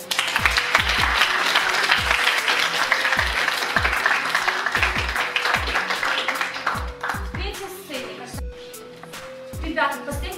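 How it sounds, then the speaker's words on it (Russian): Audience applauding school forum-theatre actors at a competition performance: dense, steady clapping from a crowd for several seconds, thinning into scattered individual claps toward the end, with some talk mixed in. "каждого актера мы в конце поддерживаем аплодисменты"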